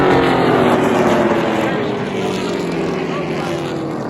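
Super late model race cars roaring around the Oxford Plains Speedway oval in a feature race, a loud continuous engine drone with wind buffeting and a slowly shifting pitch as the field passes.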